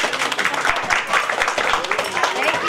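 Children clap steadily through a kindergarten Christmas party in Romania, a dense, even patter of many small hands filling the room at fairly close range, with voices mixed in.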